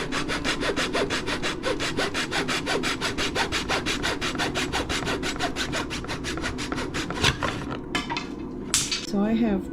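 A hand saw cuts a wooden board for a kitchen island cart in quick, even back-and-forth strokes. A brief clatter of the board or tools follows near the end.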